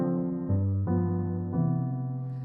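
Solo jazz piano, left hand playing root, 3rd and 7th chord voicings, several warm sustained chords changing in slow succession with no voices.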